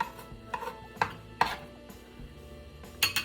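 A knife chops onions on a cutting board in a home kitchen while making Philly steak sandwiches, with a few sharp, unevenly spaced close knocks separated by quiet gaps.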